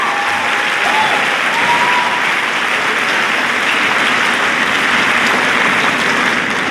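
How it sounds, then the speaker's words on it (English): A large crowd at a high school spring awards assembly applauding, a dense, even wash of clapping held at full strength throughout, loud and close, with no break. "One more round of applause, please."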